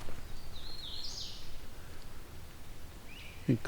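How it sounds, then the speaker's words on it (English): A hooded warbler sings a thin, high phrase in open countryside along a rural road, faint and at some distance, with another short high note near the end over a low background rumble. "Get closer to the hooded warbler now"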